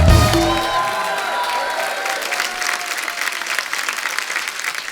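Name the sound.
studio audience applause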